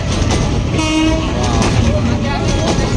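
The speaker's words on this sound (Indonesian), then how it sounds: "masih sering dilewati kereta-kereta wisata seperti ini" A tourist train runs along railway tracks close by, rumbling loudly and steadily, its horn sounding partway through over the rolling wheels.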